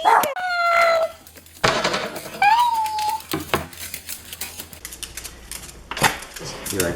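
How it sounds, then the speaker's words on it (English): A dog gives two drawn-out, high howling whines, one early and one midway, amid clicks, clatter and thumps nearby, with people speaking in the background. "Let's meet my annoying dog."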